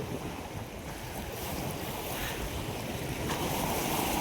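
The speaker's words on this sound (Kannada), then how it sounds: "ನೋಡಿ ಎಷ್ಟೊಂದು ಪ್ರಮಾಣದಲ್ಲಿ ನೀರು ಯಾವ ಥರ ಬರ್ತಾ ಇದೆ" Loud, continuous roar of the rain-swollen Kaveri River rushing in flood, with wind buffeting the microphone, no voices.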